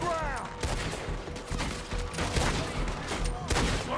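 Dense, rapid gunfire in the Red Dead Redemption 2 video game, shots cracking close together almost continuously over a busy background of game effects.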